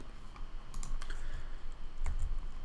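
Typing on a computer keyboard while writing web code, a quiet, steady run of soft key clicks close by with slightly louder taps near the end and no talking.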